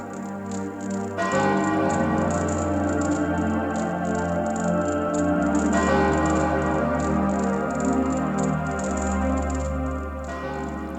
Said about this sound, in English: Especially with the bell ringing in the background.